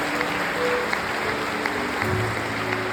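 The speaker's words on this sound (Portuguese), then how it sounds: "Pode aplaudir se vocês têm isso no seu coração." A church congregation applauds, a sustained moderately loud clapping wash with faint tonal sounds of music or voices beneath it.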